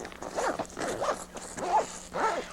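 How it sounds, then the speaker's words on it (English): Zipper on the quarter window of a Jeep Wrangler soft top, pulled in several short, rasping strokes with brief pauses between, close and fairly loud. "zip the windows all the way closed and reattach the Velcro flaps around them"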